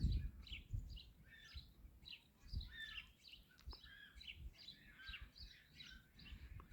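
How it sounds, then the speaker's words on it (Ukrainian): Sparrows chirp in a busy, overlapping chatter of short repeated calls at moderate distance outdoors, faint over low background rumble and handling noise. "Горобці літають, да."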